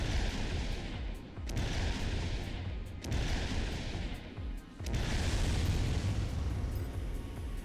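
Weapon fire from a mech in Armored Core 3, heavy booming shots in a few loud bursts with brief gaps between them, dense and close against continuous rumbling background.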